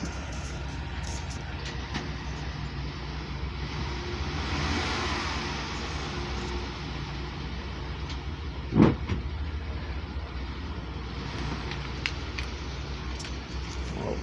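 A 2018 RAM 1500 pickup truck engine idles and runs steadily, a continuous low rumble close by as the truck is moved forward, with a single sharp knock partway through.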